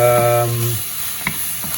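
Steady sizzling of spices and chili and turmeric powder being stirred in a hot pan for chicken butter masala, with a few faint stirring clicks; a brief tone fades out at the very start.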